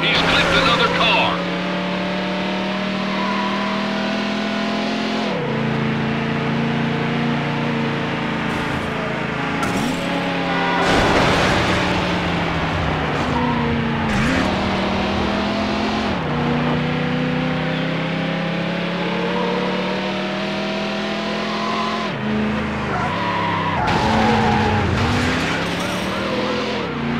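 A light blue Dodge Viper GTS roars at high speed during a police pursuit in NFS Hot Pursuit 2 on PS2, its engine revving and shifting continuously, with tire skids, passing cars and sirens under frequent radio-style police chatter.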